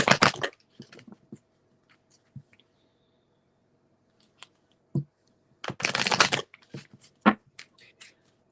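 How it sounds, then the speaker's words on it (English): Tarot cards are shuffled in short riffling bursts, close and crisp, separated by quiet pauses and small taps and clicks, with a faint hum underneath. "I'm gonna have to shuffle again."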